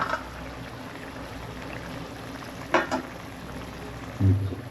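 Paneer gravy bubbles and simmers in a pot on low heat, a soft steady burble with a couple of louder pops and clinks.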